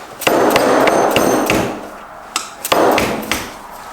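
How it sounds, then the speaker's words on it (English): A hammer strikes a Subaru STI transmission part to straighten it in a workshop, several sharp metallic blows close by in an uneven rhythm, with gaps between groups of hits. "Alright, gotta hammer this straight."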